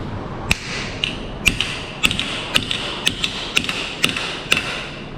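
A hammer strikes sheet metal about ten times at an even pace while repairing F150 cab corners, each sharp, ringing tap standing out clearly, with faint scraping between blows.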